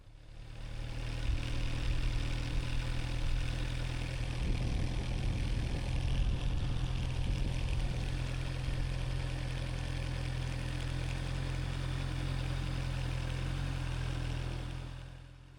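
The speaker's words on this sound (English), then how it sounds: "So stop the motorcycle, reset, and go again." A motorcycle engine idles steadily, a constant low throbbing hum that holds close and even throughout, with no speech over it, during clutch control practice for new riders.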